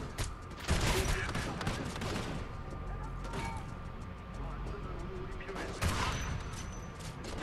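Gunfire from a video game, Homefront: The Revolution, crackles in bursts through the clip, loudest near the start and again toward the end, with a person talking over it.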